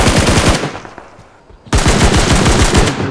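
Loud automatic gunfire in a shooter video game, a rapid burst that stops for about a second, then a second sustained burst of close, rattling shots.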